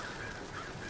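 Crows caw in BioShock Infinite, a couple of hoarse calls rising briefly above a dense, noisy game background.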